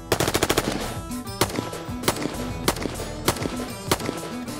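Bullpup rifles firing at an outdoor shooting range: a fast string of sharp shots at the start, then single loud reports spaced about a second apart, close and prominent with no talk.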